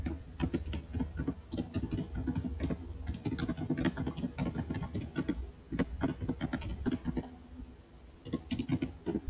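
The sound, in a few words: typing a command on a computer keyboard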